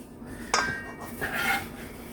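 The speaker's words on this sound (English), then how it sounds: "Now this pan is really heavy, so I'm going to see if I can scoop them up" A spoon scrapes and clinks against a heavy pan while cooked Vidalia onions are scooped out, with a sharp metallic knock followed by softer scraping over a steady kitchen hum.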